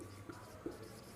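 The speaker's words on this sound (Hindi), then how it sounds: "तो यहां लिख देते हैं हम लोग नीचे" Chalk or marker writing on a board during a maths lecture on matrix multiplication, faint and steady with two small taps, in a quiet room with no speech.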